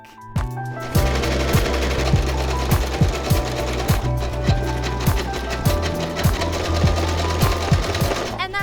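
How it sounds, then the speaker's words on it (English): A sewing machine stitches on a button using a button foot, its needle striking in a fast, regular rhythm of sharp knocks, close and loud, running for several seconds after a brief start. "You put the button onto the machine and test it with your hand wheel to see if the needle is going into the holes"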